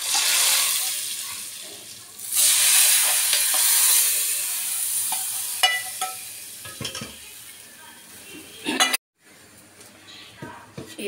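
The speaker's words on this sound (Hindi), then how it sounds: "डाला है फ्राई पैन में, ये दाल को तड़का लगा रही हूँ मैं।" Hot oil sizzles loudly in a frying pan for several seconds as spices hit it while tempering dal, followed by clinks and stirring before the frying fades and cuts off.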